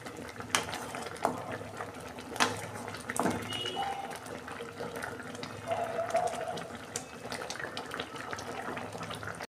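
Curry leaves are rinsed under a running kitchen tap, a faint steady trickle of water with a few soft knocks and clicks of handling, and a voice talks quietly in the background.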